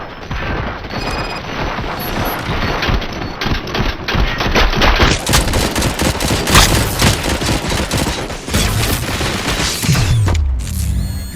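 Heavy automatic gunfire in the game RoboCop: Rogue City, dense continuous bursts and fusillades with booming impacts and mechanical clatter, loud and up front for the whole stretch.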